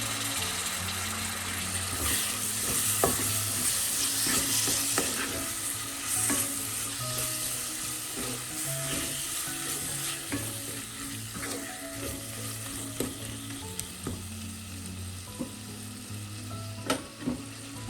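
Tomatoes sizzle and fry in oil in a pan for a black pomfret fish curry, with a continuous crackling sizzle and occasional stirring scrapes over a low background hum.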